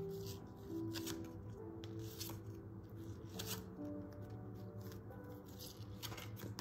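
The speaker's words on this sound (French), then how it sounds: "On va prendre une carte pour lire un petit peu ce qu'il dit." Oracle cards from a fairground-themed deck being shuffled and handled, a steady, close papery riffling and sliding that continues throughout over faint background music.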